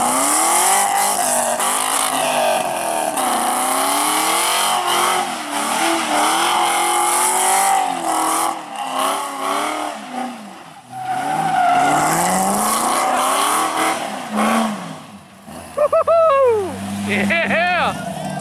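A Corvette spins donuts and drifts at a drag strip, tires squealing loudly in long sweeping wails over a revving engine, close and continuous, with people shouting and talking through it.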